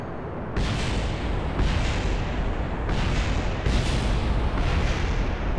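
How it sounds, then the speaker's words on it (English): A series of loud, booming rocket explosions in Kerbal Space Program roll in one after another, a continuous heavy rumble punctuated by repeated explosive bursts. "Why am I having explosions?"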